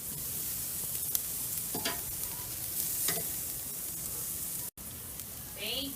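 Pork loin sizzling steadily on an Akorn Kamado grill right after being flipped, a constant loud crackle with occasional clicks of tongs against the grate.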